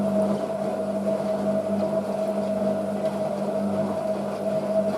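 Hotpoint 9530 Electronic 1000 Plus washing machine running a cotton rinse and spin with a bulky load, giving a steady continuous motor hum with a strong tonal whine, constant and fairly loud throughout with no talking.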